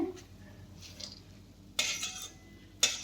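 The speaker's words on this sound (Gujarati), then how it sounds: "ફટાફટ આવી રીતે બધા જ મમરા આપણે કાઢી લેશું." A spoon scrapes fried garlic-flavoured puffed rice out of a metal pan, giving two sharp, close metallic scoops over a quiet kitchen background with faint rustling between them.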